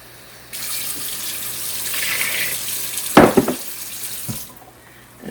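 Tap water running steadily into a sink or bowl for a Weight Watchers meal-prep recipe calling for 1 1/4 cups of water, a continuous close hiss broken by a few louder splashes near the end before stopping.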